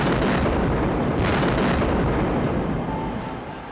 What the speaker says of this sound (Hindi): तभी जोरदार धमाका होता है